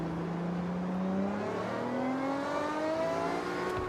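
A car engine revs and climbs steadily in pitch in the video game Forza Horizon, a smooth sustained drone that holds close and loud the whole time with no talk.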